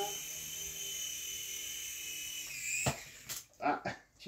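A tiny 32-gram T2M Spark SX radio-controlled model helicopter gives a steady, high rotor whine for a few seconds, then cuts off into a short series of clattering knocks and thumps as it comes down to land.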